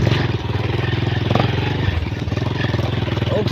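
A restarted motorcycle engine runs steadily nearby, a loud, even putter with a rapid rhythmic pulse and some clattery mechanical noise, holding at a fairly constant idle-like pace.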